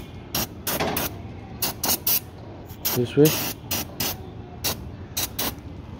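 Several short, sharp bursts of alcohol-based cleaner hiss in quick succession at close range onto a motorcycle brake, with a person speaking briefly between them.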